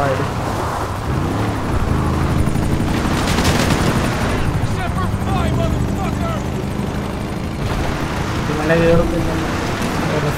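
A helicopter in the video game GTA 5 Online gives a steady rotor drone throughout, with bursts of gunfire and people talking over it.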